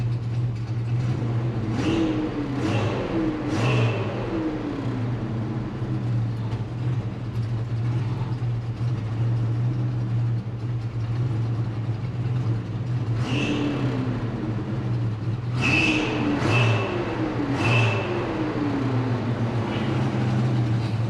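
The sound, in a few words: Chevrolet El Camino engine running after carburetor rebuild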